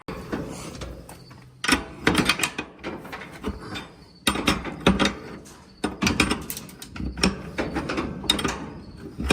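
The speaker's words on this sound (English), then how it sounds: "I'll tighten this down, and then we'll make the adjustments" A ratchet tightens something down in bursts of rapid clicking, three runs of close mechanical ratcheting separated by brief pauses.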